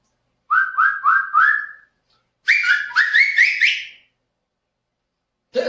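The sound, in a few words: whistle being blown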